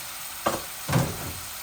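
Chili and spice masala frying with chicken breast meat and chana dal in a pan, two brief sharp sizzles about half a second apart, the second fuller, heard close over a low steady background.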